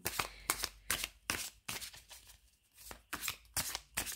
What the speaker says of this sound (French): on va mélanger un petit peu le tarot